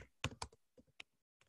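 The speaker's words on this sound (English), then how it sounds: "I'm typing it here." Keys clatter on a computer keyboard in a few quick, irregular bursts, separated by short pauses, close and fairly quiet in an indoor setting.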